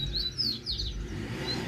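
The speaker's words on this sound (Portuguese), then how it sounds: "O bichinho continua mandando canto aí, rapaziada." Wild birds give faint, distant chirps and short whistled phrases over low background rumble outdoors, with a papa-capim (capuchinho) heard singing free in the area.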